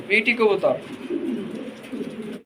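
Fancy pigeons in a cage at a breeding farm cooing, a few close, throaty coos at the start followed by a continuous murmur of soft cooing from several birds.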